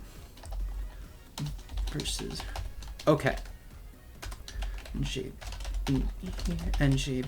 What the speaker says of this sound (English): Sorry, I'm typing out my kill stuff